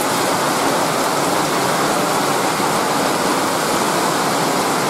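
Heavy rain drums steadily on a tin roof, a dense and loud continuous roar with no breaks and no voices.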